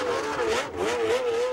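A 1980 Formula 1 racing car sets out for practice, its high engine note holding steady while the revs waver up and down, loud and alone with no talk.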